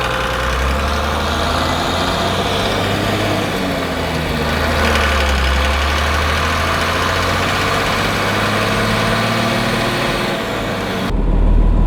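Cummins-swapped Land Cruiser diesel with a sealed transmission tunnel, heard from inside while driving: a steady, moderate low engine drone with faint road hum that rises slightly near the end.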